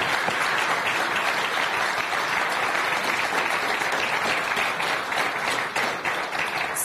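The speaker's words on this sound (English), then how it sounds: "I would like to give a round of applause for all of you for hosting us here." An audience at a youth forum applauds the event hosts, a dense, even roar of many hands clapping, steady and fairly loud throughout with no voices on top.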